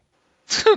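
A single short sneeze bursts out near the mic after a moment of silence, a sharp breathy onset followed by a voiced tail lasting under half a second, amid a football podcast conversation.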